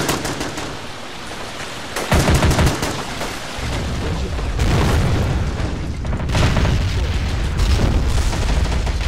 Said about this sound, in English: So the artillery guns are firing somewhat.